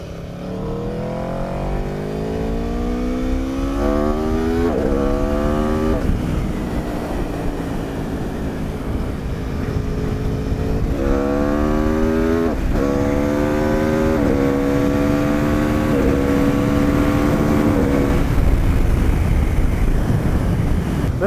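A 2018 Aprilia RSV4RR revs hard while riding, climbing in pitch through repeated quick-shifter upshifts, each gear change a sharp drop before the next loud rising pull, over constant wind rush.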